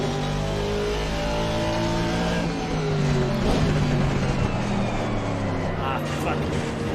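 GT3 race car engine in Assetto Corsa Competizione at Paul Ricard, loud and close, pulling through rising gears with steady revving and shifting pitch, while a voice talks over it.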